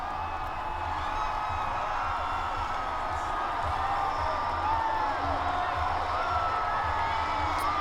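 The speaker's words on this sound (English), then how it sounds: "This is the crowd in Phoenix" A large crowd gathered in Phoenix on the 2008 election night sends up a steady, dense roar of voices and scattered cheers that holds at an even level throughout.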